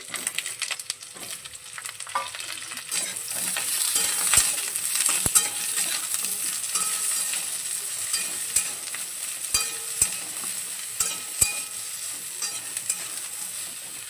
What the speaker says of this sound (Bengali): বেগুনটাও তেলের মধ্যে একটু নেড়ে চেড়ে নিয়েছি